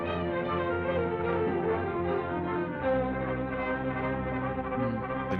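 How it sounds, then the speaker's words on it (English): Energetic orchestral chase music from the 1942 crime-horror film Bowery at Midnight, a dense sustained band of strings and brass that shifts to a lower, heavier register halfway through, playing steadily with no speech. "The music makes it sound like this cop's already got his promotion."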